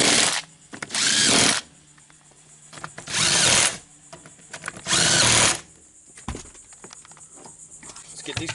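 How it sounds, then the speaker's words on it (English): A power tool tightens four seat bolts on a Toyota Sequoia, running in three loud, close bursts of about half a second to a second each. Quieter clicks and handling noises fill the gaps between the bursts. "let's go ahead and tighten up these 4 bolts"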